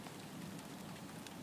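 Steady rain falling on a surface outdoors, a soft continuous patter at low level with no voices.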